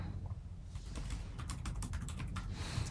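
A computer keyboard is typed on in a quick burst of close, clicky keystrokes during a QNAP TS-462 NAS setup, preceded and followed by faint background noise, with no speech.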